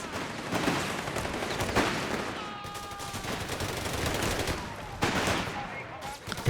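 Sustained gunfire from Panzergrenadiers using focus fire in Company of Heroes 3, a dense rattle of rifle and machine-gun shots with sharp louder bursts throughout.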